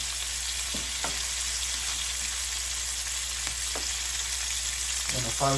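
Chicken sizzles steadily in a hot pan, a constant dense frying hiss with occasional pops and a brief clatter near the end, close and moderately loud, with a few words spoken faintly.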